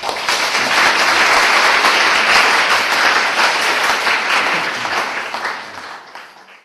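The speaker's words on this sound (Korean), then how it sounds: "박수 부탁드립니다" Sustained audience applause at an award ceremony for a youth green-growth invention contest, a dense, steady wash of many hands clapping that holds strong for several seconds and then tapers off toward the end.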